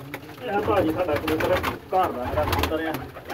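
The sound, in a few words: pigeons cooing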